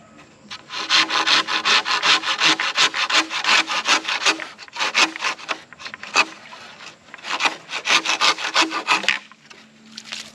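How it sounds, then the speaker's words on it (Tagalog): A hand saw cuts through bamboo in quick, rasping back-and-forth strokes, loud and close, with a few brief pauses between bursts of steady sawing. "Iipit yung lagari natin ah."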